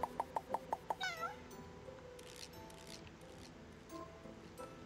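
A video game cat gives a quick run of six short meows, then one longer sliding meow, followed by quiet faint game ambience with soft scattered clicks and rustles.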